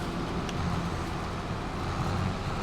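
Tractor engine running steadily in rain, a continuous broadband rumble with low droning tones and no breaks, heard from inside or close to the cab.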